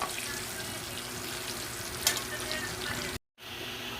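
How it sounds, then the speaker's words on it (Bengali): An egg fries in a small amount of oil in a pan, giving a steady close sizzle with a brief scrape partway through and a short dropout near the end. "ডিমটা আমি ভেজে নিয়েছি"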